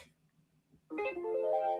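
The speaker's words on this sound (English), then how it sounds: "That's my phone going off." A mobile phone starts ringing abruptly after a quiet stretch, a bright melodic ringtone sounding nearby, steady and clear, with no talk over it.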